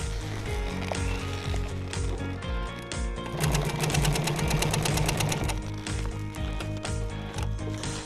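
A sewing machine stitches through an RFID tag, a close, loud mechanical whir with fast regular needle strokes that speeds into a steady burst midway.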